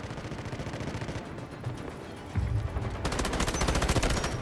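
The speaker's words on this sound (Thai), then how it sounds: "ได้ยินเสียงมันยิงอยู่ตรงนี้เนี่ย" Bursts of rapid gunfire crackle in the video game Delta Force, with automatic weapons including an M249 light machine gun rattling and growing louder toward the end.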